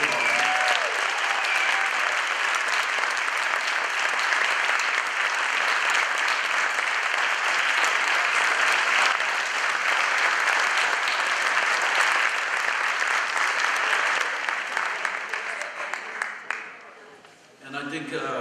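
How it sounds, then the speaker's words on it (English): A school meeting audience bursts into sustained, loud applause that holds steady for about fifteen seconds before tapering off, with a few cheers and voices mixed into the clapping. "So give them another round of applause."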